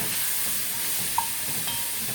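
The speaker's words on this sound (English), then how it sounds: "Give it a little stir, stir." A spoon stirring carrots and garlic in a hot pot, a steady close sizzle and frying hiss with a faint scrape of stirring and no voices.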